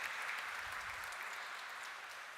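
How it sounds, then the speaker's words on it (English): Audience applause fills a live philosophy session honoring Saint Dnyaneshwar and Saint Tukaram, a steady, dense wash of clapping from a hall crowd that tapers slightly toward the end, with no voices over it. "Let's give him a big round of applause, my friends"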